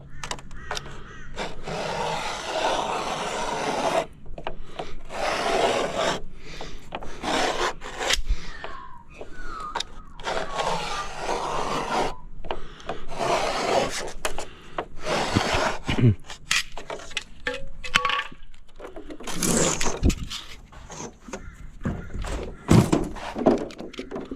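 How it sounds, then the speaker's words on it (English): A Stanley knife scores and snaps gib board plasterboard sheets along a straight edge during a bathroom resheet, with repeated rasping cuts, scrapes and dull thunks, close up and irregular, and occasional voice in the background. "And that's how you cut jib rock as well."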